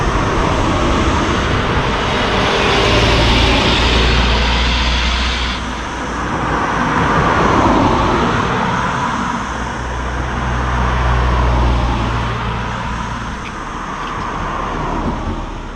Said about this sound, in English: Can't believe how many cars are coming down here